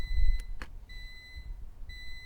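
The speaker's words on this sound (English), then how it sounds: "We'll have another timer go off as it gets to 0" A lab timer in a clean room beeps as it counts down to zero, sounding three short high electronic tones spaced about a second apart over quiet background noise, with a couple of brief clicks near the start.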